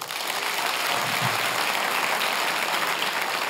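An audience at a live French comedy podcast taping claps in a dense, steady round of applause that fills the whole stretch at moderate volume, with no talking over it.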